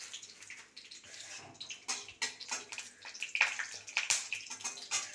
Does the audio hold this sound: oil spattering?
yes